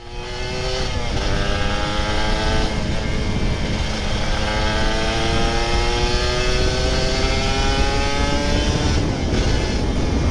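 Kawasaki Ninja RR 150 two-stroke motorcycle engine being revved during a test, loud and close, with the pitch rising and falling through several sustained rev sweeps over a steady rough drone, no talk.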